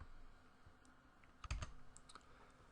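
Someone types Java code in the Eclipse editor on a computer keyboard, producing faint, sparse key clicks in a quiet room, with a small cluster of taps in the middle.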